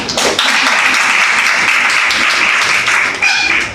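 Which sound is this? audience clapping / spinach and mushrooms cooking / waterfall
audience clapping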